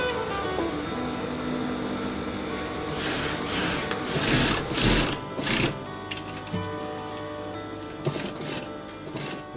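A sewing machine runs in a neighbourhood sewing workshop, its needle clattering in a fast, steady rhythm with short bursts of louder stitching, close and clear, with no talk over it.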